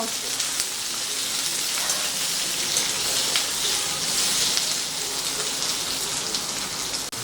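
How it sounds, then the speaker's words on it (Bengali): Tomatoes and green chillies fry in a pan with a soft continuous hissing sizzle, rain-like and fairly quiet, holding steady throughout. "তো এখন এগুলোকে হালকা করে একটু ভেজে নেব"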